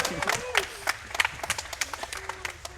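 Scattered clapping from a small crowd watching a live speedrun race of Prince of Persia: The Sands of Time at a gaming marathon event, sharp irregular claps of moderate loudness mixed with faint cheering and murmuring voices.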